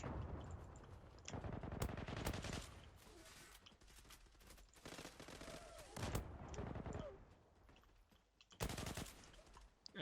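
Rapid automatic gunfire in the online shooter Zula on a ship map, several loud bursts of machine-gun fire separated by quieter gaps, close and sharp, with no talking.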